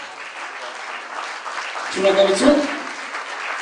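An audience claps steadily through an award presentation at the Miss & Mister Arabkir pageant. The applause swells briefly midway, and a person speaks over it.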